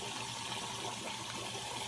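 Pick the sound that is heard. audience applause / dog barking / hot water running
hot water running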